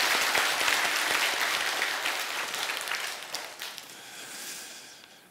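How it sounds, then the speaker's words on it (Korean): A church congregation claps together during a Sunday worship service, a dense wash of applause that starts full and gradually thins and fades over several seconds. "아멘 하면서 박수 한번 또 쳐주셔야 됩니다"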